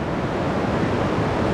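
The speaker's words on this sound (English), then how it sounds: "This is the Spokane River." The Spokane River rushing past, a steady broad roar of flowing water heard from the bank, continuous and fairly loud with some wind buffeting.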